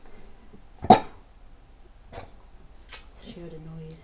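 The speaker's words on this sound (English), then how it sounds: "Stop barking, you silly girl." A single sharp dog bark rings out nearby, followed by a couple of softer huffs and a short murmured voice.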